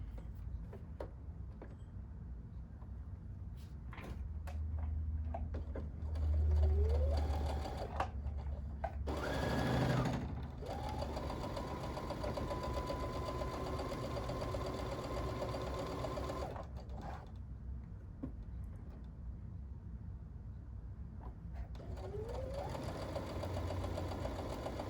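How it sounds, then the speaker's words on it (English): A domestic sewing machine stitches along a marked line on quilt sampler fabric, running steadily and close with brief pauses and speed changes, its motor whir and needle ticking continuous throughout. "I'm going to sew it right on the marked line."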